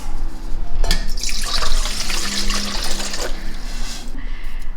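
Water pours steadily into a bowl to start pizza dough, a close, continuous splashing stream lasting several seconds with no talk.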